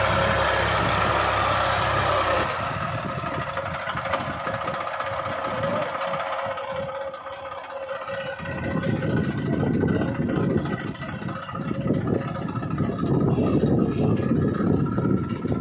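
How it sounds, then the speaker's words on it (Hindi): A New Holland tractor engine idles at a steady, moderate level, its low mechanical chug continuing throughout, with some outdoor clatter and a shift in background noise partway through. "न्यू लैंड स्टार्ट हो चुका है दोस्तों, देखिए"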